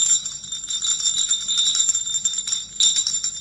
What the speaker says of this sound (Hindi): ऐसे गिलास में घंटी है